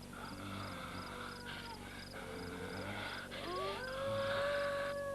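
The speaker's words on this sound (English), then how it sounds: "Wolves." Wolves howling in a rising, sustained chorus of long wavering tones that swell louder toward the end, layered over a low steady rumble of background score.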